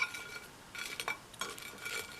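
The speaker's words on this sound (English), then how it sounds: "we just cut the toast down the middle" A knife slicing toast on a plate, a few soft crunchy scrapes and light clinks of metal on ceramic, close up and fairly quiet.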